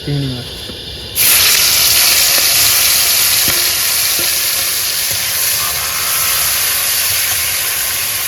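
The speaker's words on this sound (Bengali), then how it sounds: "তেল কিন্তু গরম হয়ে গেছে এবার কিন্তু মাছগুলো সব ভেজে নেবো" Fish frying in hot oil at an outdoor evening cookout beside a Sundarbans river: a loud, steady sizzle bursts in suddenly after a quiet second and then hisses on continuously, close and unbroken.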